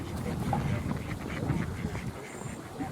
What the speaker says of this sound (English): And they've got plenty of Hawaiian geese here.